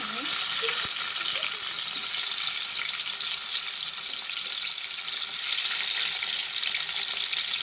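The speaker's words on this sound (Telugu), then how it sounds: "ఎన్ని చేపలు ముందు ఫ్రై చేస్తున్నాను ఫ్రెండ్స్" Dried fish frying in hot oil for a cucumber and tomato curry, giving a loud, steady sizzle that fills the whole clip without a break, with a faint stir near the start.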